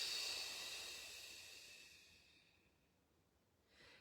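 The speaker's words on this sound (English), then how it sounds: "Breathe in, breathe out." A long, airy exhale during guided breathwork, fading gradually over a few seconds, followed by the faint start of a fresh inhale, heard alone with no talking.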